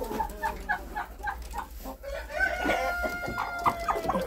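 Hens clucking close by in a farmyard on a frosty spring morning, in repeated short bursts, with a few louder squawks toward the end and no voices.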